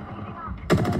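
Rapid automatic gunfire from the video game Apex Legends bursts in loudly partway through, a dense rattling volley following quieter muffled game noise and faint talk.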